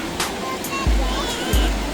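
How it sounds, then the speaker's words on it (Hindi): Three or four small, fast-flowing waterfalls in Cornwall, a steady rushing roar of water close by, with a couple of low thumps from handling or wind. "ये 3-4 छोटी छोटी वाटरफॉल है।"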